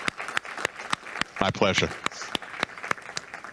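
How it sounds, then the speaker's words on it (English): Sparse, sharp claps ring out from a small audience applauding after a presentation on copyright in Canada, a handful of distinct hand strikes spread across the clip, with a short spoken reply in the middle. "I think everybody can join me to applaud."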